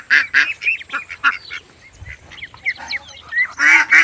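Ducks and chickens come in across a farm field in Bundelkhand, giving close, repeated honking quacks in uneven bursts with short quieter gaps between them.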